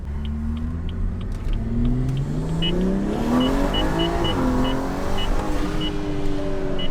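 A BMW 340i with aftermarket mods accelerating hard on a test drive, its engine note rising steadily through the gears in a loud, continuous roar heard from inside the car.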